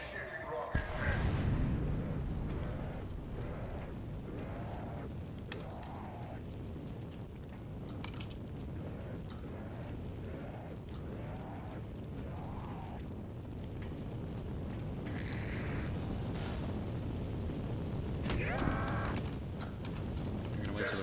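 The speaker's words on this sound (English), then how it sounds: "Initiating rocket test." Rocket test launch in the Der Eisendrache zombies map of a video game: a sustained, heavy low rumble that swells toward the end, with game voices and sound effects mixed over it.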